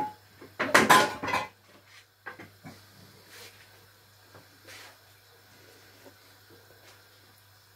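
A loud metallic clatter of a frying pan being picked up and set down on a gas stove, followed by quieter clinks and a low steady hum in a kitchen.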